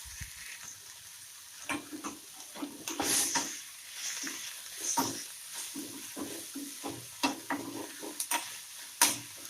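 Shredded cabbage for a Gujarati cabbage sambharo salad being stirred in a pan over low gas, with irregular scraping strokes and a soft background sizzle. There is no talking.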